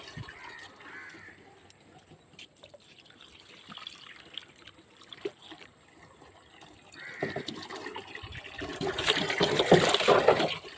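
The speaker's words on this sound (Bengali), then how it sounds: "প্রথমে পেয়ারা গাছে পানি দিয়ে দিব। তো পানি দেওয়ার জন্য ছোট একটা বালতি রাখছি, যেন ভালোভাবে পানি দেওয়া যায়।" Water from a small bucket is poured onto a guava tree outdoors; after quiet rustling and faint crows and livestock in the distance, a loud splashing gush builds over the last few seconds.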